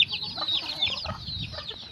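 Small bantam chickens cluck and chatter in a short, busy stretch of overlapping calls, close by and moderately loud over faint farmyard background.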